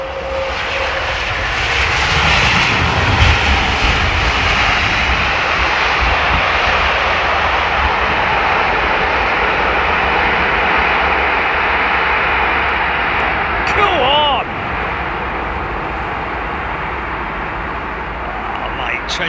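A jet airliner with Rolls-Royce Trent 700 engines, an aircraft of Shenzhen Airlines seen at London Heathrow, roars loud and steady in a broad continuous engine rush that fades slightly near the end, with brief voices and chirps partway through.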